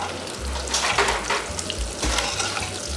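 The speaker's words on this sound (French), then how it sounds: "On mélange bien." A custard of eggs and cream, seasoned with grated nutmeg, is whisked in a bowl for a quiche lorraine. Close, steady wet scraping and swishing strokes come in uneven bursts over a low background hum, with no talking.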